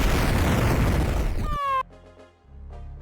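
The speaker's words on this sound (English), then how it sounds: "Huge explosion." An explosion spell in Final Fantasy Tactics roars as a dense, loud blast that ends in a descending tonal sweep, then cuts to a low rumbling hum.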